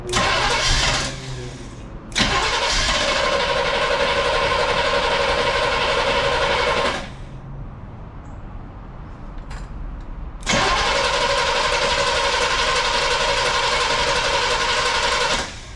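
A 1969 Chevrolet Impala, revived after sitting 20 years, cranks and fires up loudly and close by, runs steadily for several seconds, drops to a quieter idle or stall, then catches again and runs strongly.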